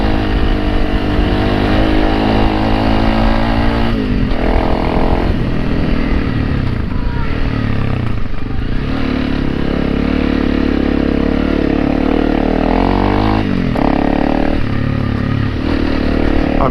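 A Honda CRF300L Rally motorcycle, new and still in break-in, runs loud and close while riding to a lookout, its engine rising and falling under clattering wind noise.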